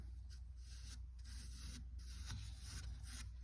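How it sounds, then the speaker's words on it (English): Wood putty is rubbed thin by hand: soft, faint, continuous rubbing and scuffing in short repeated strokes, close by and without talking. "when you rub it thin like this, it dries super fast"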